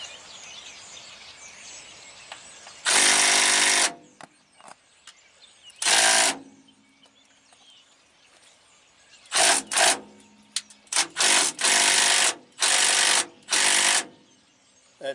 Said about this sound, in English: Let me show you how quick that cam turns when I use this power wrench on that thing there.